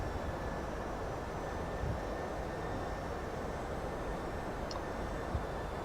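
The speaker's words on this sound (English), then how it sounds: "So it looks like we are throttling back, and we've started our descent." Simulated Boeing 757-200 engines in X-Plane 11 throttle back as the airliner begins its descent, heard as a faint, steady broadband roar with a low rumble and no distinct events.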